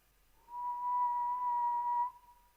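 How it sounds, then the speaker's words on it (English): A single whistle blown in an audiobook, one clear steady tone held for about a second and a half, clean and isolated against near silence. "the best way to find out is evidently to whistle for him"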